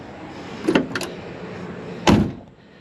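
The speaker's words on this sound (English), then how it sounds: "Let's see how the door closes." The door of a 1968 Chevrolet Camaro is opened and swung shut, first a couple of light clicks and rattles, then a solid, close thud as it latches.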